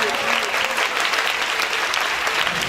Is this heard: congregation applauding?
yes